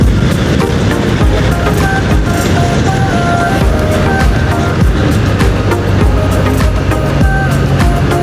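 Loud, constant wind buffeting roars into the microphone while riding a Kawasaki W800 motorcycle, with engine rumble underneath and no pauses.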